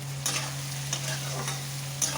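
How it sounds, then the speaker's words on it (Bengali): Pointed gourd pieces are stirred with turmeric in a hot pan, giving a steady close sizzle with a few soft scrapes of the spoon and no talk. "একটু নাড়াচাড়া করবো হলদিটা দিয়ে"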